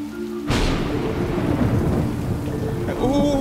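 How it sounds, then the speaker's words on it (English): Sudden loud crash of thunder followed by steady heavy rain pouring down, rumbling low and continuous. "Over an inch of rain has fallen in 3 hours"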